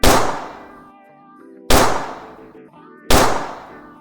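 Three loud, sharp gunshot sound effects, evenly spaced, each a hard crack followed by a long ringing metallic decay, with no other sound between them.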